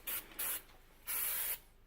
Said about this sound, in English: Spray it good.